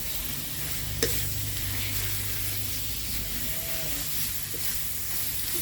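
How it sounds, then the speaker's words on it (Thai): Beef pieces stir-fried with curry paste in a hot pan for a Thai jungle curry, giving a continuous sizzling hiss with one sharp utensil knock near the start and soft scraping as the meat is tossed. "ใส่เนื้อที่เราหั่นเป็นชิ้นเนาะเลย ผัดเนื้อก่อนเลยค่ะให้สุก ให้เครื่องแกงเข้าไปในเนื้อเลยเนาะ"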